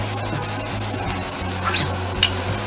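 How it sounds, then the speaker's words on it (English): Pork browning in a hot pan gives a steady close sizzle with a low hum beneath it and a couple of brief scraping taps. "Into the hot pan goes the pork."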